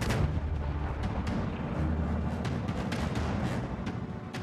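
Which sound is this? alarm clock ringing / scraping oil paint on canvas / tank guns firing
tank guns firing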